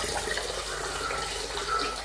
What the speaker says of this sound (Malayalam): അപ്പൊ ഞാനിനി അരി ഒന്ന് കഴുകിയിട്ടെ